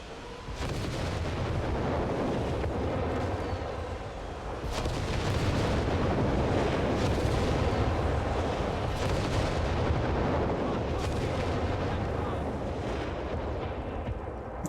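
Nebelwerfer rocket artillery fires in the Company of Heroes 3 war game, a dense, continuous barrage of rumbling booms and bursts that stays loud for the whole stretch.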